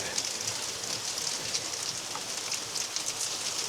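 Steady rain pouring onto surfaces in a village during bad weather, a dense even hiss of drops close by with no talk over it.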